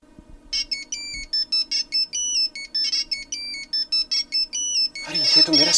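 A mobile phone ringtone plays a repeating electronic melody in short bursts, fairly close, and then a voice starts speaking over the last notes.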